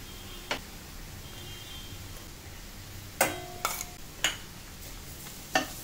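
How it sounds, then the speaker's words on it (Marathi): Ground onion masala paste frying in hot oil for a sandgya curry, a quiet steady sizzle broken by a few sharp clicks of a spoon stirring against the pan. "ते हे चांगलं तेलात आपण भाजून घेऊया."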